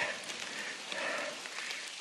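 Steady rain hissing around a cyclist spinning home on an end-of-summer training ride, a continuous broadband wash of drops and spray, fairly close and with no talking.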